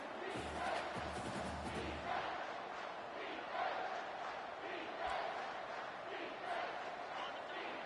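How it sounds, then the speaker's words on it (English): A football stadium crowd roars to spur on the home defense before a third-and-goal red zone stand, a dense, sustained wall of cheering and shouting heard from a distance. "This crowd is trying to inspire this defense to make a big red zone stop"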